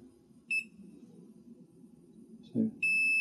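Short multimeter continuity beeps sound while probing the pins of a radio transceiver board for a short: one brief steady tone, a gap, then a second long tone, with quiet handling noise between.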